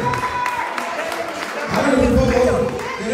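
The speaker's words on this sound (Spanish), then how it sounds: "aplauso." Applause from a crowd at a political rally in Guaymas, Sonora, a continuous rush of clapping under a held voice and crowd noise that swells louder midway and stays busy to the end.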